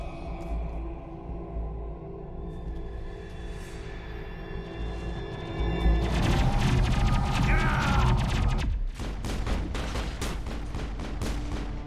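Gunfire in the video game Mass Effect under sniper attack, a sustained dense barrage of shots and impacts building over a droning backdrop, then a run of sharp, regular cracks toward the end.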